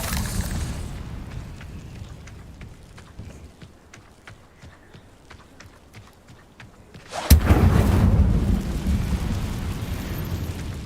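A fire spell cast in Hogwarts Legacy bursts out loud and sudden partway through, a whooshing flare that follows a quieter stretch of ambient game sound with light footfalls.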